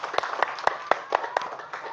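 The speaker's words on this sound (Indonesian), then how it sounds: "beri tepuk tangan untuk Rogo." Classroom applause for a pupil in a primary school lesson, about eight evenly spaced claps in a steady rhythm, fairly close and moderate in volume against a faint room murmur.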